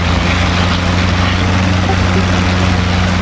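WW2 aircraft engines in DCS World, a pair of fighters rolling for takeoff on runway 06, giving a steady, loud, droning hum with a strong low tone throughout, no voices.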